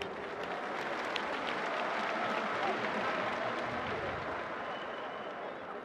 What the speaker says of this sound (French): Ils méritent certainement nos applaudissements